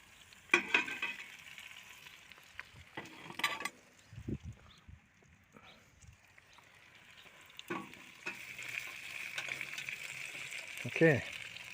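Beef and vegetables fry in a pot for a hobo-style beef and tomato stew, with an uneven sizzle broken by stirring clatter and scraping, a few louder metallic knocks, and the frying growing steadier toward the end.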